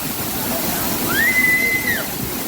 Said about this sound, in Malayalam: ഞങ്ങളിതാ കണ്ടില്ലേ ഫുള്ള് അടിപൊളി വെള്ളച്ചാട്ടത്തെ